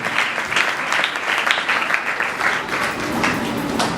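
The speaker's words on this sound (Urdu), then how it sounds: "ادھر ذرا زوردار تالیاں" Loud, dense applause from a church congregation, many hands clapping together in a sustained, even roar that fills the whole stretch.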